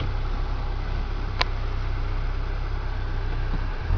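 A warm Peugeot car engine idling, a steady low rumbling drone close up, constant and unbroken with a brief faint tick partway through.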